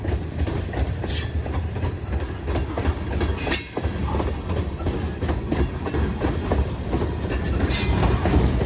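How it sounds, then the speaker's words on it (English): Freight train flat cars, including an old auto rack, rolling past close by on CSX street-running track, with steady clickety-clack wheel rhythm, rumbling and brief squeals across the whole stretch. "Going to get a better view of the flat cars this time, looking up underneath of them."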